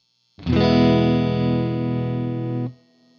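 A single clean electric guitar note rings out steadily for about two seconds, then cuts off.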